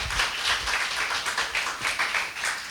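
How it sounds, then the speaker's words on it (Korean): Audience clapping at the start of a science lecture in a Seoul auditorium; a steady, fairly loud round of many hands continuing throughout. "네, 큰 박수 부탁드립니다."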